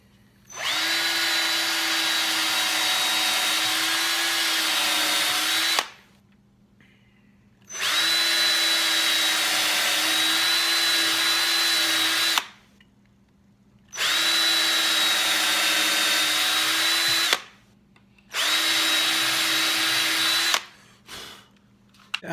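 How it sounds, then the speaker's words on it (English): A power drill pre-drilling screw holes in wood whirs at high speed in four long sustained bursts, each several seconds, separated by brief pauses, loud and close. "I'm going to pre-drill these holes so that the screws that go in there don't split anything out."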